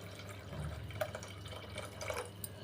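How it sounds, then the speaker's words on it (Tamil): Water is poured into a cooking pot for a rice dish: a soft, steady trickle and splashing that runs throughout at low level, with faint drips and no voices. "ஒரு 5 கப்பளவு வந்து தண்ணி சேர்த்துக்கிறேன்"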